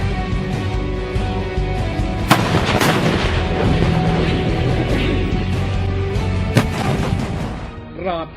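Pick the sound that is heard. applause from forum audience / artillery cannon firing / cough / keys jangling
artillery cannon firing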